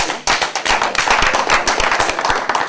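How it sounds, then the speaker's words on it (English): A round of applause from a seated audience at a talk, sharp, close hand claps in a quick irregular patter, loud and sustained for a few seconds without speech. "Give him a round of applause."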